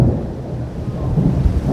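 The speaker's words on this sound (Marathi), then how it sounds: "विजा पण कडकडायला सुरुवात झाली होती बघा, वीज कडकडली डेंजर." Thunder rumbles low and heavy over steady rain during an unseasonal storm in a Konkan village. The roll swells and sags continuously for under two seconds, loud and close, with no voices.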